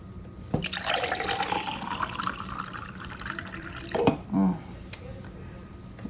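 Lemonade pours into frosted glasses, a bright liquid stream splashing for a few seconds with a couple of glassy clinks and a short gurgle near the end.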